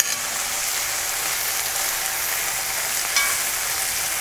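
Dried prawns fry in a pan with cucumber, giving a steady, close crackling sizzle that holds even throughout, with one small sharper flare near the end and no talking.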